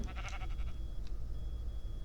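A single short, faint sheep bleat, wavering and a little distant, is followed by quiet low background rumble.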